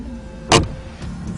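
A handbrake is yanked once inside a Tofaş Şahin dressed up as a Doğan, a single sharp, brief rasp up close that stands out above a low, steady cabin hum.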